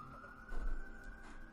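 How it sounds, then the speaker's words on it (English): An ambulance siren passes outside as a steady wailing tone, faint and somewhat distant, swelling briefly and then fading against low background rumble. "Hopefully that ambulance reaches where it needs to on time."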